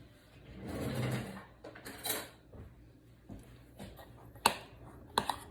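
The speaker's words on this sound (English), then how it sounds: "we are just going to get a spoon and we are going to mix that" A spoon mixes cinnamon butter filling in a bowl for a cinnamon roll cake: soft, close scraping and stirring, followed by a few sharper clinks of the spoon against the dish near the end.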